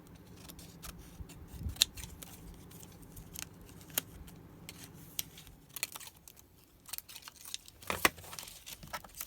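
Scissors snip through thin acetate plastic saved from packaging, producing close, crisp cuts at irregular intervals with faint crinkling of the plastic between snips and a cluster of sharper cuts near the end.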